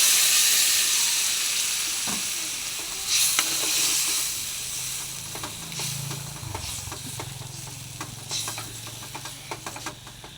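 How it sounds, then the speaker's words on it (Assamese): Tomatoes and potatoes fry in oil for an Assamese fish curry with bhedai lota, a loud, close sizzle that gradually settles while a spatula scrapes and knocks against the pan in repeated strokes. "বিলাহী আৰু আলুখিনি ভালকৈ এনেকৈ হেৰি কৰি লৈছোঁ।"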